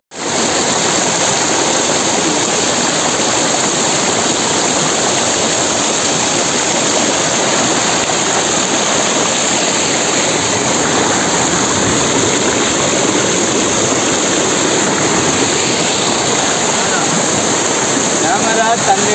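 A waterfall at Thenkasi, much like the Kutralam falls, roars close by as a loud, unbroken broadband rush of crashing water that stays constant from start to finish.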